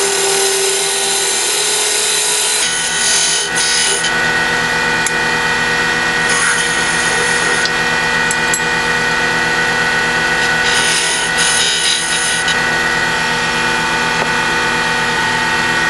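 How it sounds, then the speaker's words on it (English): A wooden tenon is cut on a Christmas ornament, likely on a lathe. A loud, steady, broadband whir of cutting runs unbroken for the whole clip, with occasional brighter scraping swells and no talking. "to prevent the fibers from splitting when I cut the tenon"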